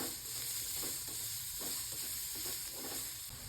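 Onions and chopped tomatoes sauté in a pan for a paneer curry, a steady close-up sizzle with soft, repeated stirring scrapes and no talking.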